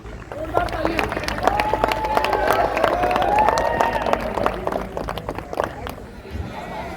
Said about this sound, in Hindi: माननीय विधायक जी के जोरदार तालियां